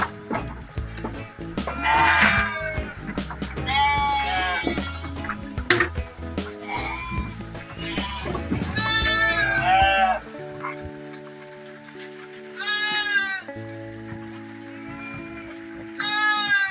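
Goats bleat on a farm in loud, wavering cries, several calls in irregular bursts over a steady musical background, with a couple of long bleats near the end.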